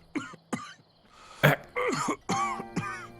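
Baizhu, a character in a video game story quest, lets out a few short, close coughs early on, followed by throaty, breathy vocal sounds.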